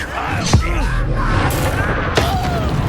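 An Incendio fire spell cast in Hogwarts Legacy, a sudden whooshing boom followed by a second burst, mixed with game sound effects and voices.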